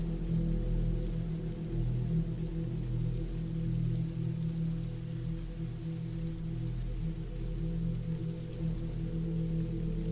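Steady rain falls continuously as a dense, even wash with a low rumbling undertone, with no individual drops standing out, serving as a constant backdrop behind a spooken horror story set at a cabin in the woods.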